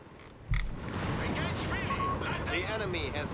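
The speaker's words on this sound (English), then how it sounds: "Stug bouncing a shot there." A StuG assault gun's shell glancing off armor in Company of Heroes 3, a sharp single report near the start followed by ongoing battle rumble, with a commentator talking throughout.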